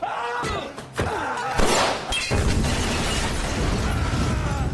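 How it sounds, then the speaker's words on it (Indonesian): A gas cylinder blows up in a film scene, a loud burst followed by a sustained roaring, crackling rumble, with earlier impacts and a brief rising tone before it. "si gempal tak sengaja meledakkan tabung gas di tempat itu"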